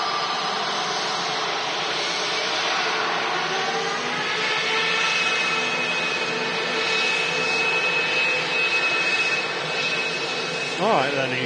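An EasyJet airliner's jet engines at Manchester Airport produce a steady, broad roar with a whining tone that builds slowly over several seconds, heard from a distance.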